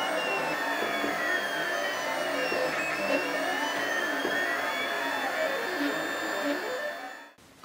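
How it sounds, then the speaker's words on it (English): 3D printer laying down ABS plastic parts, a continuous whirring hum with sliding motor tones that rise and fall as the print head moves, steady and close, stopping abruptly at the end. "print quarters at a time on the 3D print bed and then stick them all together afterwards"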